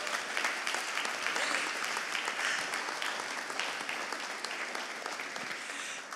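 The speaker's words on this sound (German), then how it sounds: "Dieser Applaus ist eurer." Steady, dense applause from a large audience at an awards show, sustained throughout and gradually easing slightly toward the end.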